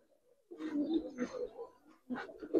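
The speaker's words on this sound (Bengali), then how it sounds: "এটা হলো বেজি কবুতর" A pigeon of an old Dhaka breed coos close by in low, throaty rolling phrases, first a soft murmur, then two fuller bouts separated by a brief pause.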